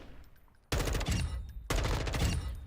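Dual Kadachis firing in Warzone 2, two loud bursts of rapid automatic gunfire, each lasting about a second, after a quieter pause, with no talking.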